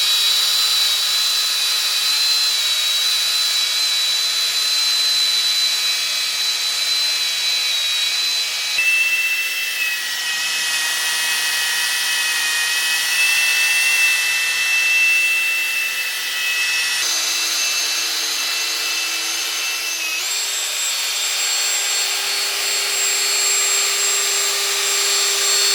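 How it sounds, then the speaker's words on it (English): A drill spins a polishing pad against a steel bull bar, producing a steady high-pitched whine with a hissing buff, close and continuous with slight shifts in pitch as pressure changes. "So I'm gonna get on the drill, guys, and start polishing away"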